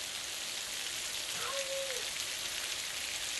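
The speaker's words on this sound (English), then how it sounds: "it's pouring heavy acid rain outside this evening" Heavy rain pours steadily outside in the evening, a dense, even hiss with no break, while a faint brief tone slides through the middle.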